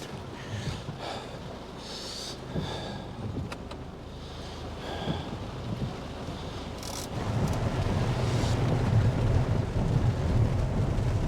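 A heavy storm with rain, gusting wind and distant thunder, a dense continuous roar that swells louder and heavier in its second half.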